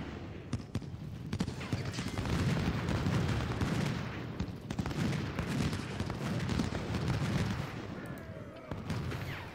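Cannon blasts and rolling musket volleys from an Ultimate General: Civil War battle, a dense continuous crackle of gunfire with heavier booms, steady and loud throughout, with a voice talking over it at times.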